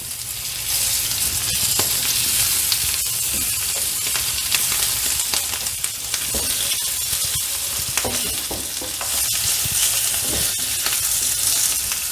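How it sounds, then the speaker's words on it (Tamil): Stuffed bitter gourd frying in a pan of oil, giving a steady, close, continuous sizzle and crackle with occasional light stirring clicks. "நம்ம இந்த பாவக்காய் வந்து ஃப்ரை பண்ணோம் இல்லையா"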